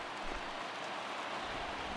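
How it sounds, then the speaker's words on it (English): Rain grows heavier over a ballpark during a baseball game, a steady close hiss of falling water with no talk. "the rain starting to intensify here. It's coming down a little heavier now."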